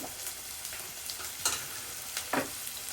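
Onions and green chillies sizzle and fry steadily in a pan for chicken curry, with a few stirring scrapes over the continuous hiss.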